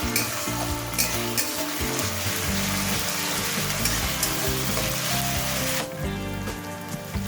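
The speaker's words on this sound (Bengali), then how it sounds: "আদা রসুনটা দেওয়ার পর এই কাঁচা গন্ধ না যাওয়া পর্যন্ত একটু ভেজে নেব" Ginger and garlic paste frying in a pan makes a loud, dense, continuous sizzle heard up close, with faint stirring scrapes.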